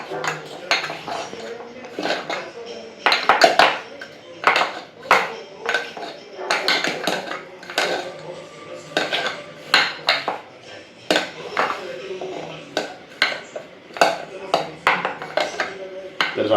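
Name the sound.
mixing chickpeas in cornflour in a bowl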